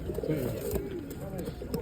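Soft, throaty cooing from pigeons close by at a pigeon and animal fair, a few overlapping low calls with faint background noise.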